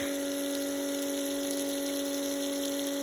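A water pump runs during a long watering job, putting out a steady, unbroken mechanical whine and hum close by, with no talking.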